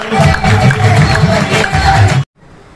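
Loud crowd applause and cheering at a business seminar in a packed hall, a dense roar of clapping and voices that cuts off abruptly near the end.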